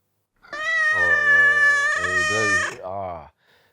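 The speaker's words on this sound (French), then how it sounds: "Il va falloir mettre du miaulement à fond là." A cat meowing in one long, drawn-out, loud and close call that bends down in pitch near the end, heard alone.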